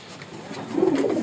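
A male white pigeon coos close by in a short, soft, throaty burst lasting just over a second.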